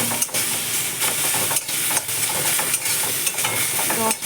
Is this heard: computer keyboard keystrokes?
no